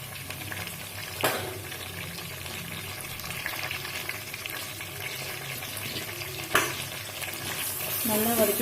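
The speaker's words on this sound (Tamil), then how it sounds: "இப்போ இஞ்சி பூண்டு பேஸ்ட்டும், பச்சை மிளகாய், கறிவேப்பிலை எல்லாம் போட்டுக்கலாம்" Ginger garlic paste, green chillies and curry leaves fry with softened onions for kadaknath chicken gravy, a steady moderate sizzle broken by two sharp utensil clacks and light stirring scrapes.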